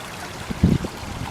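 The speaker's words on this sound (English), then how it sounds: "There's running water here as well." Running water of a small forest stream in freezing winter woodland, a soft continuous trickle with a brief louder gurgle midway, heard close and alone.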